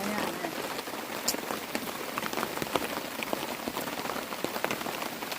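Steady rain patters on a surface in a deep forest, with scattered close drips and taps over a constant soft hiss.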